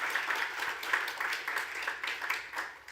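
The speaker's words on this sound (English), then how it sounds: "So a round of applause for the judges, please," An audience at the WCERA 2020 awards ceremony applauds the judges. The clapping is soft and steady, heard at a slight distance and sustained for a few seconds.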